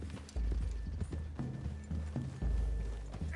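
Horses trot through a forest clearing in Red Dead Redemption 2: close, rhythmic clip-clop of hooves with tack rattling, several heavy steps in uneven succession, no talk.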